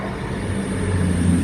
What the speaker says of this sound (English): which, as the train goes by,